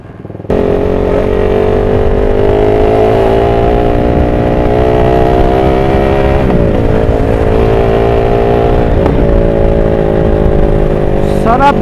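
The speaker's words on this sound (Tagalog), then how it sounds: "Sarap ng popping sound kapag naka sports mode. Backfire." A motorcycle engine running steadily in sports mode, loud and close throughout, with a few sharp transient pops from the exhaust near the middle and end, suggesting backfire crackles over the continuous engine drone.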